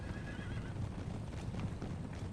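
Cavalry horses charge in Empire: Total War, with a dense rumble of many hooves and a faint whinny early on, all blended into a loud, continuous battle roar.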